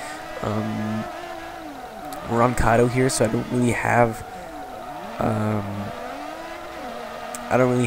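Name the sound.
Aston Martin V12 Vantage engine in Forza Motorsport 3 video game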